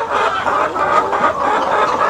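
A large flock of about 400 hens on a poultry farm clucks loudly and continuously, the overlapping calls forming a dense, close chorus.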